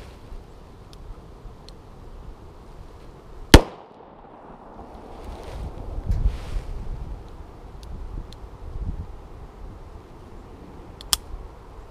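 A single sharp, loud gunshot from a Smith & Wesson Governor revolver cracks outdoors amid wind noise, and a fainter second report follows near the end.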